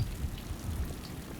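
Steady rain falling in an alleyway scene of a Resident Evil Survivor game mod, a soft continuous patter of drops on surfaces, faint and even throughout with no voices.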